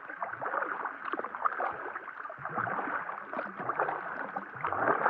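Steady water noise from paddling a canoe across a lake on a solo trip, with soft splashes and gurgles running continuously at close range, no voices.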